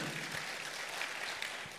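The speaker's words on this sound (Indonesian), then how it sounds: "Yang mengerti tepuk tangan dulu yang meriah buat Tuhan kita." A church congregation applauds during an evening prayer service, a dense, even wash of clapping heard at a distance and fairly faint.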